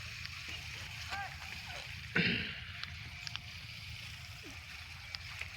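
Rain-pipe sprinklers shower water onto a garlic field with a constant wet hiss, broken by a brief louder splash near the middle and a few small ticks, with no talk.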